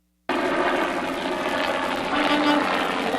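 A police helicopter drones steadily overhead during a manhunt, a loud, continuous rotor and engine roar that starts abruptly and holds at a constant level.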